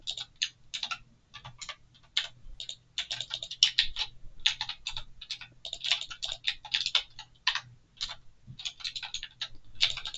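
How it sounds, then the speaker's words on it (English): Rapid, loud clacking of a mechanical computer keyboard being typed on up close, keystrokes in quick irregular bursts with short pauses, no voices. "Apologies for the noise of my mechanical keyboard"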